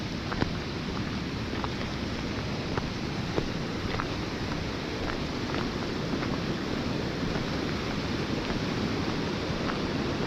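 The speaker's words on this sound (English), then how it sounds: "I hear the water flows much better compared to the other day" The Blue River flows strongly on a chilly morning, a steady, close rushing wash with faint scattered ticks and splashes throughout, no voices.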